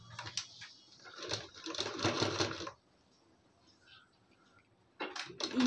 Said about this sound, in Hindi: इसी तरीके से सिलाई हमें चलाते जाना है और पाइपिंग निकालते जाना है।